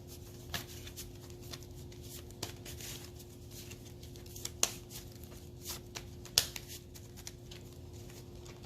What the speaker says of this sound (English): Shuffle the deck here, see what wants to come out.